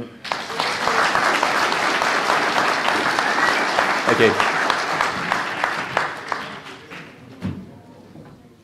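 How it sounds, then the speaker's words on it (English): A conference audience at a British Constitution Group gathering breaks into loud, dense applause that thins into scattered claps toward the end, with a brief spoken thanks and some thumps mixed in. "round of applause for us all"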